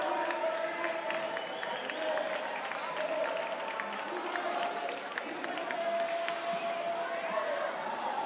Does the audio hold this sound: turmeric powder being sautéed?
no